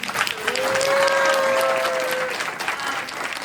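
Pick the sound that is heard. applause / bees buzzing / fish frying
applause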